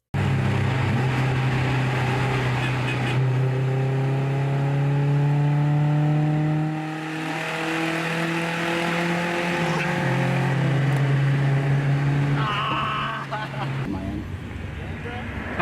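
Car with a Nissan KA24 engine pulling hard through a five-speed gearbox, its loud drone climbing in pitch through several rising sweeps with brief dips at the shifts, voices talking over it.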